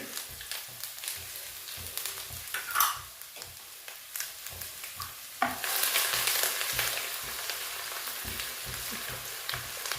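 Garlic and about three-quarters of a cup of ginger fry in hot oil over medium flame. Soft sizzling comes with rhythmic stirring clicks, then a louder, fuller sizzle surges about halfway through and holds steady.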